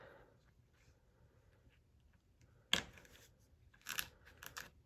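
Scissors cutting a small piece of interfacing fabric: a sharp snip followed by a few quick close crisp cuts, in a quiet room.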